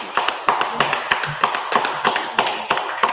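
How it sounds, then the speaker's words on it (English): A class claps in a Purim feast gathering, with steady, regularly spaced claps ringing out close by in a rhythmic beat for about three seconds, with no talk over them. "clap it up for all the sisters."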